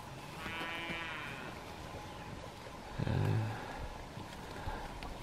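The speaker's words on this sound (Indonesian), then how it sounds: "Tuh anak-anak sapi lor" Cattle calves mooing outdoors, a drawn-out low moo rising clearly over steady farmyard background noise, with a fainter call earlier.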